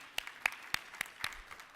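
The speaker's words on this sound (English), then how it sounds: "Yes, we clap for that." A small audience at a voters' education and candidates forum claps sparsely, a handful of distinct, faint claps spaced out over under two seconds.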